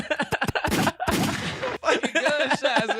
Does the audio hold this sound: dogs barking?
no